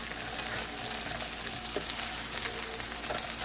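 Potatoes fry for home fries in a pan on the stove with a steady, close sizzle and occasional small pops throughout.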